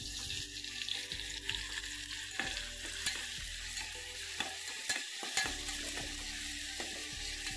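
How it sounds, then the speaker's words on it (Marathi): Chopped onion frying and softening in a hot pan on a home stove, a steady close sizzle broken by repeated scraping and stirring clicks, with a faint tap running briefly; no talking. "तर मी टाकलं आता कांदा शिजायला."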